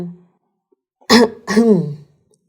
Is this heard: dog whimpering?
no